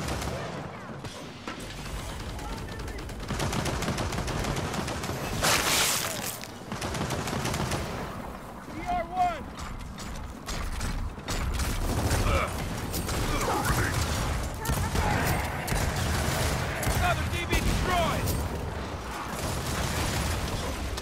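Dense, continuous gunfire from a video game horde mode wave, rapid automatic bursts and mechanical clatter running nearly nonstop and loud, with players talking over the shooting.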